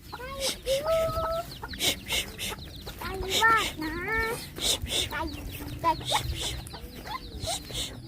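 Chickens cluck and squawk in short bursts among other high calls and background chatter, fairly close and busy.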